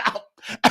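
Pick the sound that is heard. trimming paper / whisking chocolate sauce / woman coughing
woman coughing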